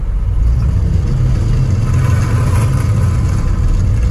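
A Renault Kaptur with four-wheel drive pulls away under full load, its engine a loud, steady low drone held close for several seconds with no break.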